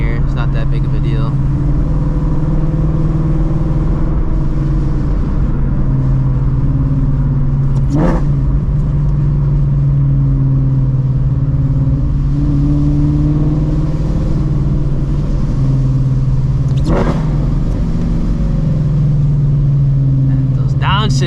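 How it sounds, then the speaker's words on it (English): Shelby GT350 engine driving in the rain, a steady low rumble with two sharp blips from downshifts around the middle and later, heard from inside the car with occasional talk over it. "Those downshifts though, man."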